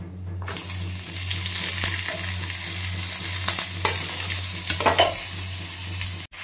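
Vegetables sizzle loudly in hot oil with bay leaves, dried chillies, panch phoron and lentil dumplings, and are stirred in a pan with intermittent scraping and clinks over a steady frying hiss.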